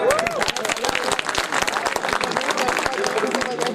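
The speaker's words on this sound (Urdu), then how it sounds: "نوجوانوں تالیاں تو بجا دیں" Young audience members at an Urdu poetry recital clapping together, a dense, steady patter of many hands that runs throughout.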